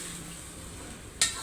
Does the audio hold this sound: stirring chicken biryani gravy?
yes